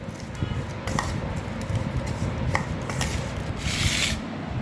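Wheat sev being stirred in a pan with jaggery and desi ghee: close scraping and rubbing with soft utensil knocks against the pan, continuous and moderately loud, with no talking.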